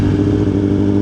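Suzuki GSX-R 1000 sport bike engine running steadily at low speed, a loud close mechanical drone with a faint rattly clatter and no talk.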